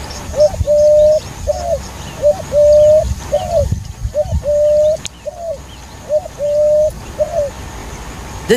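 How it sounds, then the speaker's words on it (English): Male Eurasian collared dove cooing in the Tadoba Andhari Tiger Reserve, a loud, close, repeated three-note call in steady phrases over soft outdoor background. "This beautiful bird, which is mourning or cooing, is the Eurasian collared dove, and it is a male."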